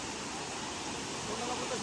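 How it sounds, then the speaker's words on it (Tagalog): Aliw-aliw Falls, a waterfall on a nature hike, roars as a steady broadband rush of water close by, loud and unbroken. "Ayan yung falls dyan."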